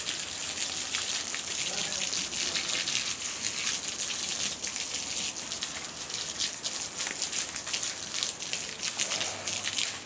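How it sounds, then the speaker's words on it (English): Water poured from a watering can around the base of plants, a steady splashing patter on soil and leaves that runs continuously, close and moderately loud. "So we're just watering it nicely around the base of every plant."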